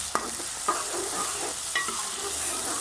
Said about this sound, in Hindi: ये हमने उसी ऑयल में ना डाल लिया है चॉप किया प्याज, लहसुन, साथ ही इसके हमने सब्ज़ मिर्चे।